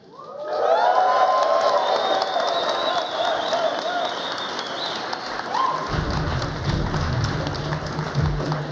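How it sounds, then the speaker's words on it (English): An audience at the RuneFest 2015 live event cheers and applauds in a large hall, a loud swelling roar of voices and clapping that gradually fades, with a low hum and some talk near the end. "So can you please cheer them on for me?"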